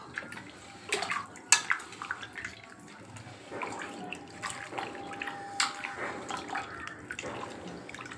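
Hands squeeze and swish tamarind in a bowl of water while making tomato rasam, giving irregular wet splashes, sloshes and drips close by, with no talking.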